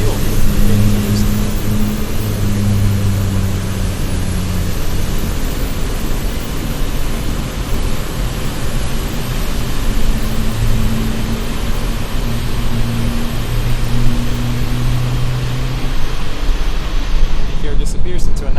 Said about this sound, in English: That bass you're hearing is the fuel being introduced.